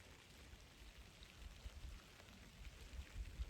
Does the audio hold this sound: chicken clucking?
no